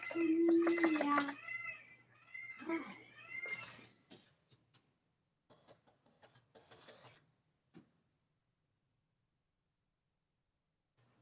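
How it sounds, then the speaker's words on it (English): A pet cat gives a long, clear meow, close and fairly loud, then a few shorter meows mixed with a person's voice, followed by quiet clicking and near silence. "I love your little meows."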